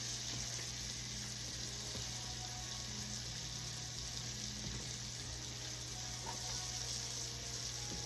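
Onions sautéing in a pan for Southern-style cube steak with onion gravy, a faint, even hiss of frying with occasional soft scrapes, no voices.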